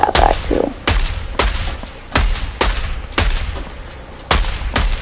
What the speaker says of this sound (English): So this is the automatic sniper rifle.